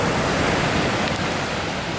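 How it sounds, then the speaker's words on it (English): Pacific Ocean surf at sunset in Brookings, Oregon rolls in as a steady, loud wash of broadband noise with wind on the microphone and no voices. "That's the Pacific Ocean you're seeing and hearing"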